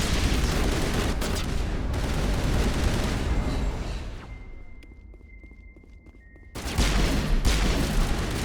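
Grenade blasts and rapid gunfire roar loudly in a Mass Effect 1 battle, then drop away into a brief quieter lull with faint tones, before another heavy burst of firing and explosions erupts.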